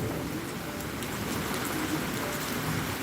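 Rain falls on a car roof at a Florida lakeside park, a steady, even patter of drops filling the air at moderate loudness with no voices.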